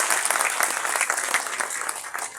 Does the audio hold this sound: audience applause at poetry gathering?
yes